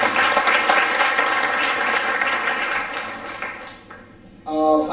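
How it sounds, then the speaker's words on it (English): Audience at an HR round table event in Pune gives a big round of applause, dense clapping loud at first and gradually fading, then a brief burst of music at the end. "a big hand is on order for all of them by big round of applause"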